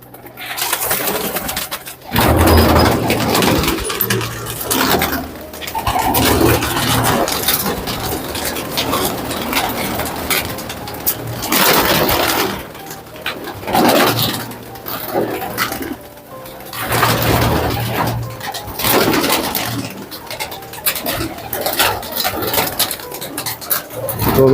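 Kaldume pigeons cooing continuously at close range, with layered overlapping calls and bursts of louder activity over a constant background hum.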